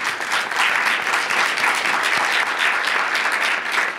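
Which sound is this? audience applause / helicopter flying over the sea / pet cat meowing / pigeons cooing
audience applause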